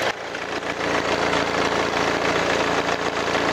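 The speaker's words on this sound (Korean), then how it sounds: "2000cc의 엔진 소리 치고는 굉장히 조용하고 정숙했습니다" Mercedes-Benz B200 CDI 2000cc diesel engine idling with the hood open, a steady close-up rumble with even mechanical ticking and no breaks throughout.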